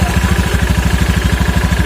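A modified motorcycle fitted with a homemade 'roller abadi' drive roller idles right after one kick of the starter, a close, loud, steady rumble with a fast, even, aggressive pulse.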